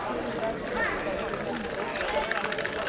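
A herd of bulls runs through a town street during the San Miguel festival run in Cadreita, a dense rumble of hoofbeats and scuffing mixed with crowd noise as people talk over it.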